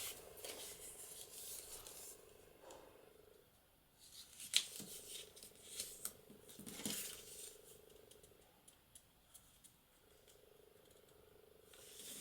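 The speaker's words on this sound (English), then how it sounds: "So now we're going to fold these." Paper squares are folded and creased by hand for a Christmas craft, soft close rustling and rubbing with a few sharper crinkles and taps, fairly quiet throughout.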